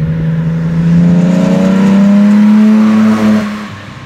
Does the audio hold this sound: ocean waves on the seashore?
no